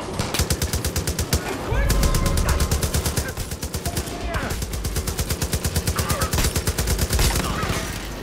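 Automatic gunfire from the player's weapon in Far Cry 5 rattles in fast, loud, close bursts, one long stretch of rapid shots after another with brief gaps between volleys.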